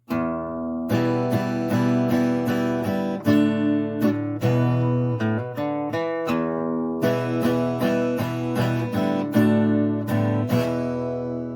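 Acoustic guitar playing a song's riff, with clear strummed chords and picked notes in a steady rhythm, loud and close, with no voice.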